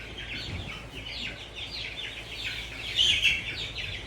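Baby chicks in a brooder pen cheep continuously, many shrill high peeps overlapping in a busy chorus, close by and fairly loud, with no talking.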